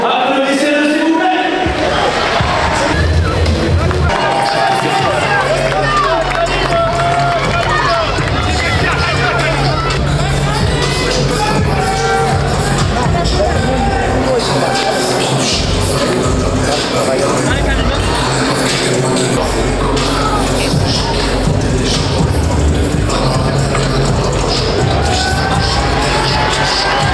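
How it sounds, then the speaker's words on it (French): An audience at a martial arts club event applauds and cheers for MMA and jiu-jitsu champions, a loud continuous din of clapping, shouts and crowd babble that runs throughout. "Applaudissez-le s'il vous plaît."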